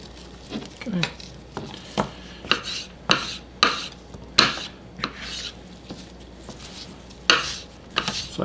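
A kitchen knife cuts through a red pepper on a board in a series of crisp, irregular chops, with soft scraping between strikes, close and fairly quiet.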